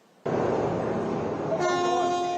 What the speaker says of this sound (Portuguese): O navio chegou a buzinar antes de bater na embarcação menor, que estava parada no cais.